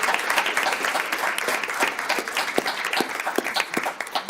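Audience applause at a school board meeting, a dense spread of claps from a modest crowd filling the room steadily for a few seconds.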